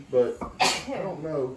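A single sharp sneeze bursts out between bits of casual talk in a home kitchen while hamburger meat is being cooked.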